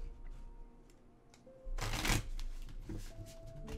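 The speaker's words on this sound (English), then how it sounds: "Hopefully the card shuffling is not too loud." Quiet rustling, then a burst of playing cards riffled together in a quick shuffle, close by, followed by soft handling sounds.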